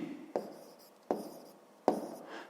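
A hand writes out the answer to a fifth-grade math exercise, three short separate scratching strokes of pen on paper, close and quiet, with no talk.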